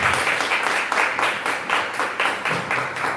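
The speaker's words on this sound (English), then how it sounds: "Please give them a round of applause." Audience at a staff award ceremony applauding the recipients, fairly loud clapping from a modest crowd with a faintly pulsing rhythm, close and without talk.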